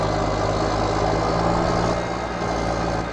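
A Farming Simulator 19 tractor, weighted at the back and hitched to a low loader, gives a steady, loud, close low diesel drone that hums at an even pitch throughout, with no talking.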